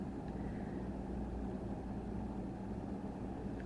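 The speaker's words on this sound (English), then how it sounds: "there's some cars going by that are really obnoxiously loud" Steady low rumble of cars passing outside a hotel, a continuous near-constant traffic drone with no clear individual pass-bys, moderately loud.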